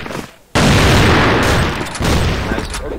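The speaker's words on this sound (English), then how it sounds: "Smoking grenade." A smoke grenade goes off in a competitive online shooter match: a sudden loud burst, then a steady, close, broadband hiss of gas that runs for a couple of seconds with slight dips.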